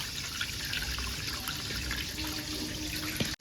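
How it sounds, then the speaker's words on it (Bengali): Ginger and garlic water pours and trickles through a kitchen strainer into another bowl, a steady close splashing wash of liquid that stops abruptly at the end. "ছাঁকনির মধ্যে আদা এবং রসুন মেশানোর যে জলটা সেটাকে এইভাবে ছেঁকে নেব।"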